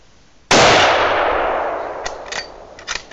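A single sharp, very loud rifle shot cracks while hunting a ten-point buck, its long echo fading across open ground, followed by a few faint metallic clicks.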